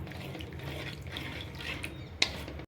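Water is poured into a spice paste with tomato puree in a home kitchen, a soft trickling and dripping near the microphone that ends in a single sharp clink, with no talk.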